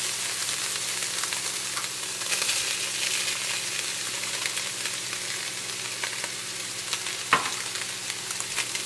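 Garlic and chopped onion fry in a pan with a steady, close sizzle and soft stirring scrapes. A sharp utensil knock sounds near the end, and no one speaks.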